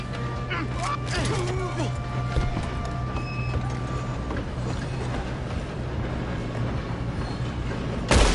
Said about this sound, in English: Do not let them stop this train!